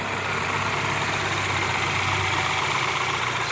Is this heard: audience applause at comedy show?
no